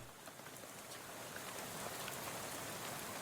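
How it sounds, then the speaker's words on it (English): Steady rain patters down at night in the video game Shadows Over Loathing, a dense, even hiss of drops on surfaces that holds at a soft level throughout with no voices. "So about this rain, huh?"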